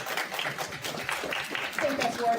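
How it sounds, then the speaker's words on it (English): Audience applause at a tech-sector diversity and inclusion talk, a dense patter of many hands clapping that fills the clip evenly at moderate loudness. "I think that's worth applause"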